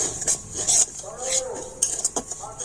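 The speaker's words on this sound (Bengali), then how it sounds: "এবার আমি এই সুজিটা একটু হালকা করে ভেজে নেব" A utensil scrapes and clinks against an empty wok while semolina is dry-roasted, making short, close stirring strokes that come in an irregular rhythm.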